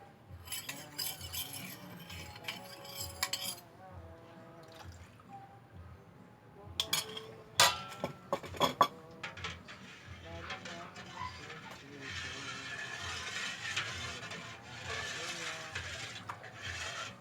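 A spoon scrapes and clinks against a pot while stirring a cornstarch mixture for ice candy, giving irregular metallic taps and scrapes with a loud cluster midway, followed by a steady bubbling hiss.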